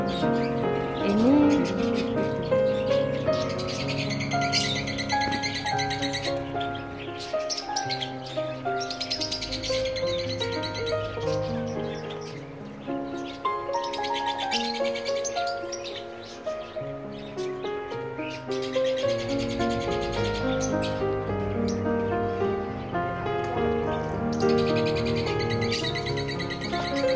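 Birds at a petting farm in de Hout, Alkmaar, chirping and singing continuously at moderate level, with many overlapping calls over a steady outdoor background.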